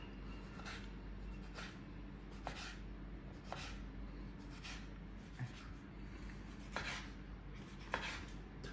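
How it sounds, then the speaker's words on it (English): A knife chops guanciale, cured pork cheek fat, on a cutting board for amatriciana: a steady series of soft, close knocks at an unhurried, regular pace over a faint background hum. "So I'm cutting the pieces not too fine and not too, but more or less this size"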